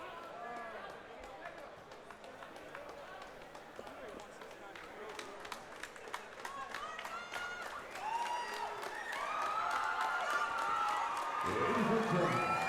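After an MMA bout, a crowd applauds both fighters with scattered cheers and whistles that swell toward the end, while an announcer's amplified voice talks over the noise.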